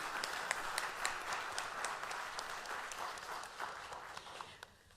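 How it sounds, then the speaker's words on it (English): An audience claps for panelists at a modern-day slavery panel discussion, a fairly faint, sustained patter of hands with a few sharper claps, easing off toward the end. "So if we give them a round of applause,"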